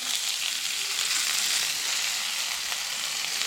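Onion, green chilies and coriander fry with cumin in hot oil for a potato dish, a steady, close sizzle hissing continuously without a break and with no voices over it.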